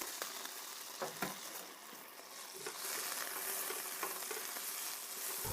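Onions cooking in a pan while being stirred constantly, a steady close sizzle with soft scraping pulses from the stirring, alone with no talk.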